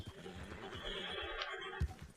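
A horse in the Red Dead Redemption 2 video game lets out a short, quiet whinny alongside faint hoof clip-clops, ending with a sharper thump.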